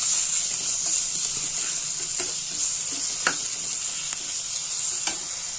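Ginger and jaggery sizzle together in a pan, a steady bright hiss with close spoon strokes and scrapes at regular intervals as the mixture is stirred for a homemade cough remedy.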